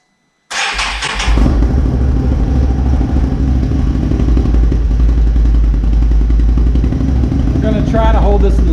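A 2023 Can-Am Renegade ATV with an SLG Bomber Quiet Series exhaust cold-starts on a cold day: a short cranking burst, then the engine catches and settles into a steady, loud, rumbling fast idle close by.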